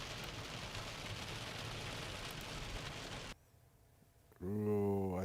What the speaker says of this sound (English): Heavy rain at this point.